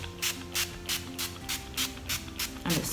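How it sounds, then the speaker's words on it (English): Repeated short bursts of Sephora Beauty Amplifier setting spray misting from a bottle, about eight evenly spaced hisses, close and fairly loud, with no talking. "set that all now with my Sephora Beauty Amplifier spray"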